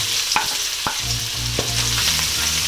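Garlic sautéing in hot oil for beef mechado sizzles steadily and close, with a few sharp utensil clicks and scrapes against the pan as it is stirred.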